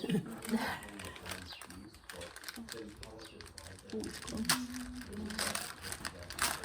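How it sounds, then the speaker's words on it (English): Birds coo and chirp intermittently in an indoor space, with people talking nearby and some rustling throughout. "Hear the birds in the barn."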